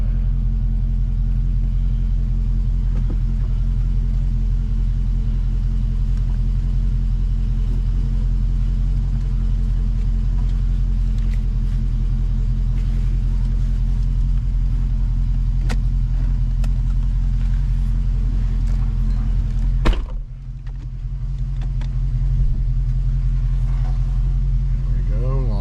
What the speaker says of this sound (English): Alright, let's take it for a test drive.